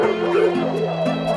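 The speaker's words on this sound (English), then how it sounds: "Hear the dogs bark." Dogs barking as part of a 1960s rock-pop song, the yips and barks blended over sustained instrumental tones in the mix, fairly loud and continuous for a brief moment.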